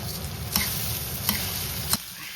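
Rice stir-fried in a wok with salt, soy sauce and oyster sauce for Minnan-style taro rice, a continuous sizzle under scraping and stirring with three sharp spatula knocks against the pan.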